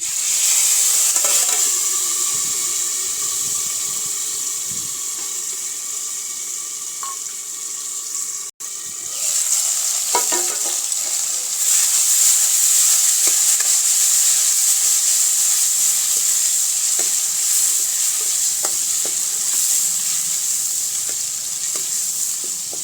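A wet paste of ginger, garlic, chili, onion and tomato sizzles loudly and steadily in a hot pan with curry leaves, a brief dip near the middle, then the hiss continues with faint stirring clicks.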